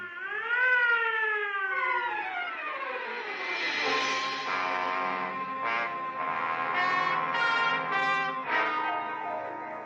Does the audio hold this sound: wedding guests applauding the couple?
no